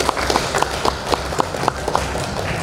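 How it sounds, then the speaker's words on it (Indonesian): Scattered handclaps from a crowd at a morning staff assembly, a steady series of sharp individual claps spaced fairly evenly over a low background murmur, moderately loud and without speech over them. "tepuk tangan untuk Bapak Ibu semua"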